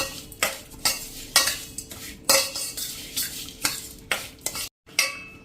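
A spoon stirs roasted salt into grated fresh carrot and mango pickle with jaggery, making a series of close, rhythmic scraping and clinking strokes about once a second, with a brief pause near the end. No one speaks.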